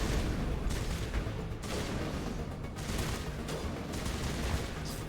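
Dense, continuous gunfire in the video game Mass Effect: rapid overlapping shots and bursts fill the whole stretch at a steady, moderately loud level with no pauses.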